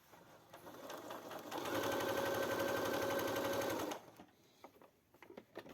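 A Brother A50 sewing machine under repair runs a fast, steady, loud stitching whir for about two seconds, then stops, leaving soft handling clicks and taps afterward.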